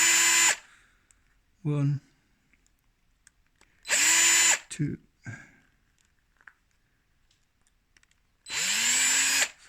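A power drill bores holes in plastic wheels for an SCX24 RC car in three short whining bursts spaced apart, with quiet clicks and a man counting aloud between them.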